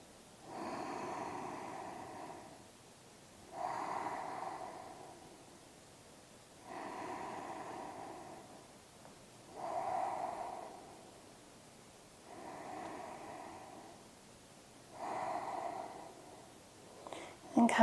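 Slow, deep breaths during a yoga pose, six long rising and falling inhale-exhale cycles at an even pace, close and soft, with no talk.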